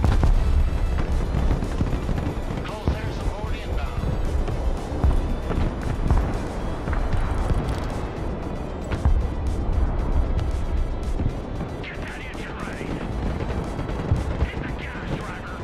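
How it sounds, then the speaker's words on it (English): Cruise missile strikes in the modern military strategy game Broken Arrow bring deep rolling booms and artillery-like rumbles in a continuous loud battle din, with faint radio-style voice chatter underneath. "I have cruise missiles inbound on it."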